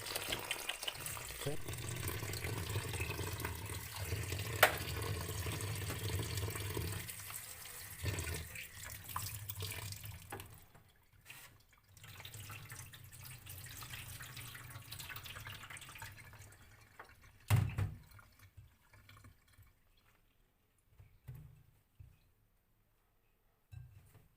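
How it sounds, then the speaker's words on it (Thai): Running tap water splashes loudly into a basin while wild termite mushrooms are washed, a steady close rush that turns into intermittent splashing and drips as the flow eases. "แล้วก็จะมาล้าง ทำความสะอาดนะครับ"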